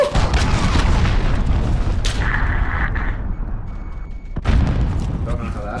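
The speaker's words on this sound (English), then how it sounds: "Enemy cruise missile incoming." Cruise missile explosions boom through a Modern Warfare multiplayer match, heavy rumbling blasts under constant battle noise, one sharp impact and a second big burst near the end, with a player talking over it.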